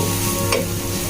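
Buro, a fermented Filipino dish, fries in a pan with a dense, loud, close sizzle and one short stirring scrape midway through.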